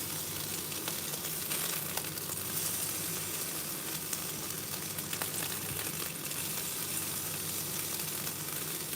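Steady crackling sizzle of food frying in a pan, continuous and fairly close, with faint scraping clicks now and then and no talking.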